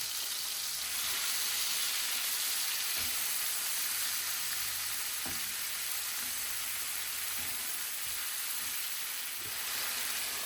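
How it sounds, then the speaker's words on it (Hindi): Marinated chicken pieces frying in a little oil in a frying pan, a steady close broadband sizzle with a few soft clinks of stirring, no voices. "अभी जो हमने चिकन मैरिनेट किया उसको मैं फ्राई पैन में बना लेती हूँ"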